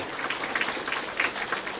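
Audience applause at a product presentation event, a steady dense clapping texture throughout, moderately near with small swells and no clear talk on top.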